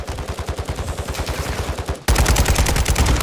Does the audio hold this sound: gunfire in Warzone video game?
yes